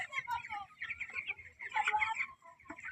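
A flock of chickens clucking and chattering close by, busy overlapping calls in uneven bursts.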